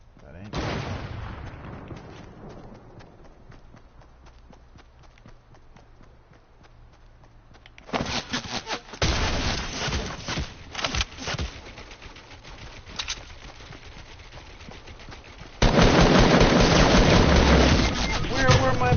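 Fortnite gameplay gunfire comes in bursts of sharp game shots, sparse early and then dense rapid volleys, with a loud continuous barrage near the end.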